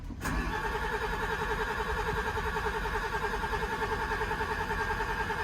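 A machine engine with a dead, won't-start fault, cranked over continuously for several seconds in a steady, rhythmic churning drone that never catches into a run, loud and close with no voices.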